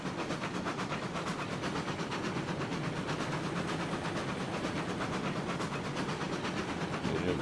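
A starting locomotive in RailRoads Online hauls a heavy load, giving a steady, dense rumble with a faint rhythmic chuff and rail clatter running unbroken throughout.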